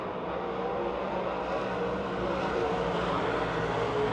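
Stock race cars circling the oval at Pennsylvania Motor Speedway near Pittsburgh, heard as a steady, moderately distant engine roar that holds without a break.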